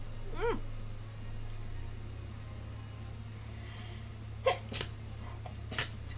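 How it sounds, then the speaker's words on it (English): A single sharp human sneeze bursts out near the end over a low steady room hum, with a couple of quieter breathy sounds just before and after it. "Ooh, I feel like I'm gonna sneeze."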